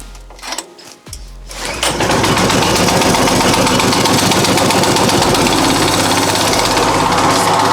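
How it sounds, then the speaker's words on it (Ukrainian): An Arpal AM60BD machine's engine is cranked and catches after about two seconds, then runs at a loud, steady, rapid chatter close by with no talking. "будемо пробувати заводити цей арпал АМ60БД"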